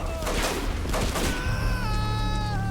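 Dense gunfire from the game Hatred, a rapid fusillade of shots filling the mix, with sirens or wailing tones rising in the second half and a faint voice underneath.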